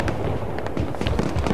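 Rapid crackling explosions from a bomber air strike in the video game Battlefield: Bad Company 2 form a dense, loud burst of overlapping blasts lasting under two seconds.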